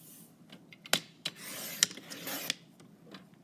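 A paper trimmer slicing a strip off a 12x12 scrapbook layout page, giving a few soft, dry rasping cuts and light clicks of the blade carriage, close and fairly quiet.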